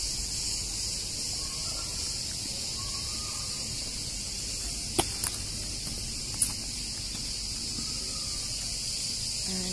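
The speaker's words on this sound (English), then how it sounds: "You can hear the crickets in the background." A steady, dense chorus of crickets chirps continuously in the background at a hotel in Marmaris, Turkey, with a couple of brief taps or footsteps.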